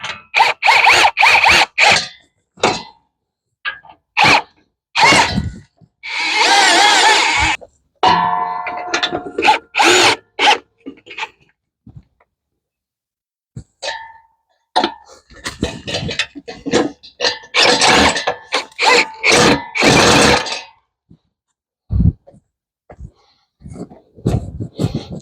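A power drill drives the mounting screws of a Liberty hose reel in repeated loud, close bursts, short and longer whirring runs split by pauses and small clicks, with no talking.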